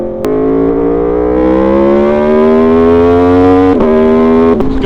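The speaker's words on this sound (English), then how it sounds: "Oh my gosh, the downshifts are so good." An Aprilia Tuono V4 motorcycle engine revs loud and close with a rising harmonic howl, broken by quick sharp blips as it downshifts.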